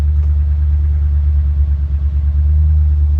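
A 1940 Chevy truck drives through a big U-turn, its engine a steady, loud low rumble heard close up with no voices.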